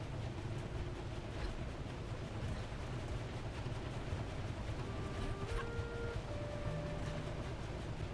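Boat moving over water in the video game Wavetale, a constant low rumbling wash of engine and waves with a few soft tonal game cues rising late on.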